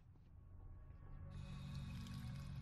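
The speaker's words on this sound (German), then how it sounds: "Sehen wir, wenn ich hier Wasser trinke," Drinking water in the post-apocalyptic game Fallout 4, a short quiet gulping, pouring liquid sound that swells slightly toward the end, heard alone.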